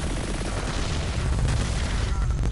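A grenade blast in the Hyper Scape shooter game, heard as a loud, heavy low boom rolling through the whole moment amid ongoing gunfire-like crackle.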